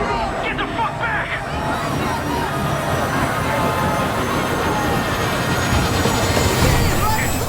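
A helicopter lifting off during a video game intro, its engine and rotor drone steady and loud beneath frantic shouting and crowd chaos that continue throughout.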